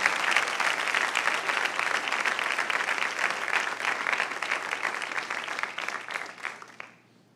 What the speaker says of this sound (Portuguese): Se vai aplaudir, vamos aplaudir forte.